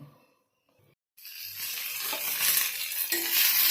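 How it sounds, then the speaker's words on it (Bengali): Onion, cashews, garlic, ginger and a little coriander leaf hit a hot pan for stir-frying, a quiet start breaking into a loud, steady close-up sizzle that swells and keeps going. "পেঁয়াজ কাজু রসুন আদা আর ধনে পাতার কয়েকটা গুঁড়া এগুলো দিয়ে একটু নেড়ে নেব"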